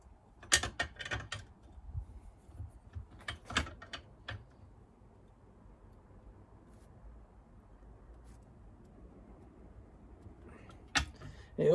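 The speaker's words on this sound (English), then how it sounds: "double wrench on when you're tightening these up, so that you don't damage the core" Wrenches clicking and clanking while tightening oil line fittings on a CB Performance 2017cc VW engine: scattered sharp metallic ticks in short bursts, close and fairly quiet, with long gaps of low room noise between them.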